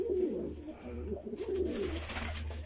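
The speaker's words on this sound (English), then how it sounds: "You are one happy pigeon, Flynn." A pet pigeon coos indoors in soft, low, rolling bursts, repeated through the moment at close range, with a faint chirp and light background noise but no talk over it.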